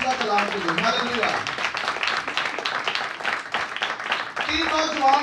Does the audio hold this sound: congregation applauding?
yes